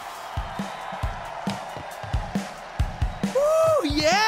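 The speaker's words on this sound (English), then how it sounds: "And the crowd goes wild!" A video-game crowd in Hi-Fi Rush erupts into cheering and whoops after a run of rhythmic punchy beats, the loud cheer swelling at the end over a voice in the mix.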